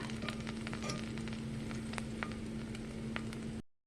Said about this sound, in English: So in here I'm going to add half a tablespoon of butter.